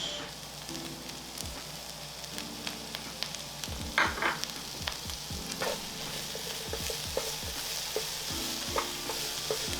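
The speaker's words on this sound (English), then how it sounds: "And then we use that to cook the veggies." Vegetables sizzle and fry in hot oil in a pan, with steady crackling throughout and repeated scraping and stirring strokes from a utensil, close and continuous with no talking.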